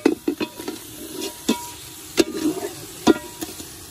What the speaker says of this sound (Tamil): ஒரு கிலோ சிக்கன் போடணும் இதுல நல்லா போட்டு நல்லா மிக்ஸ் பண்ணி கலக்கிடுங்க